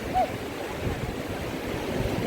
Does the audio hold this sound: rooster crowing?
no